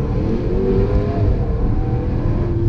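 Low, rumbling engine drone of a Range Rover SVR rising slightly in pitch with its exhaust valves closed, a muted rev with no talking.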